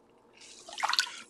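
Water dripping and trickling off freshly washed needlework, a quiet patter that builds into a brief cluster of close drips toward the end.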